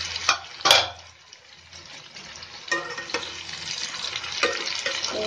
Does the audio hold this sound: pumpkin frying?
yes